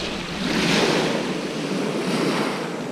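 Rough sea waves break and wash on Eastbourne beach in the early morning, a continuous loud roar of surf swelling and easing, with wind buffeting the microphone.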